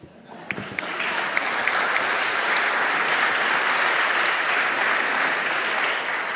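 A panel audience breaks into loud, sustained applause that starts with a few scattered claps and swells into a steady roar of clapping held to the end.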